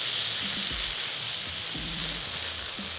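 Potatoes, precooked and spread out, sear on a plancha over a wood-fire brazier, giving a steady, loud sizzling hiss with a few low knocks and scrapes underneath, and no voices.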